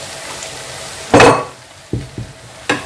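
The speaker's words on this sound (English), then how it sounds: "Give that a stir." A spoon stirring crayfish in a frying pot of okra seafood stew: one long, loud scraping stir, then a few shorter scrapes and clinks against the pot, with a faint sizzle underneath.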